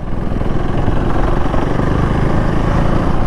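A Husqvarna Svartpilen 401 motorcycle being ridden in 4th gear at about 30–35 km/h, a loud continuous engine drone mixed with heavy wind rush, steady and unbroken throughout.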